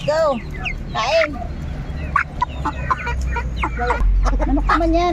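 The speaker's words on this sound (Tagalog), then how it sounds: "Manok naman yan." Native chickens cluck close by in a farmyard during egg harvesting, with short scattered calls and a few louder squawks over low background noise and occasional voices.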